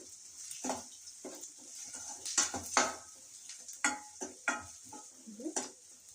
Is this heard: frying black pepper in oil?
yes